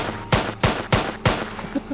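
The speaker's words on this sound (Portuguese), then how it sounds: "Do nada, o cara me solta uns tiros." Gunfire in the farming video game Farming Simulator 22, heard as four loud, sharp shots in a steady rhythm about a third of a second apart over a constant background hum.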